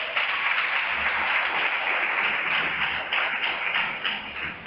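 Congregation applauding inside a church, a dense, steady wash of many hands clapping at moderate distance, sustained evenly with no speech over it.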